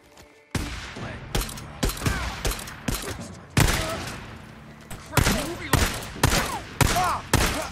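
Rapid gunfire bursts in the video game Days Gone, sharp loud shots in irregular clusters with a short gap, some close and punchy, over a quiet background.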